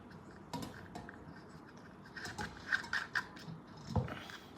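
A metal clamp on an overhead mobile tripod stand is tightened, giving a series of faint close clicks and ratcheting ticks over a quiet background.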